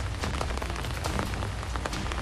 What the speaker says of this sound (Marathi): कुठे रिमझिम पाऊस सुरू आहे